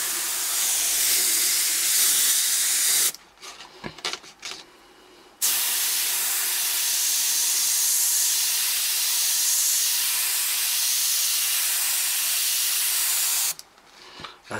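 A Badger airbrush, fully opened, sprays a loud steady hiss of air and paint in long bursts, cut off sharply for a couple of seconds, then resumed at full strength.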